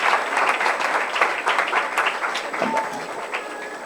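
A church congregation at a Sunday service applauds, with a dense, continuous round of clapping that stays loud and even for a few seconds.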